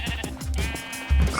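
Sheep bleat twice in Minecraft, a short pair of game calls over a steady backdrop of ambient sound effects.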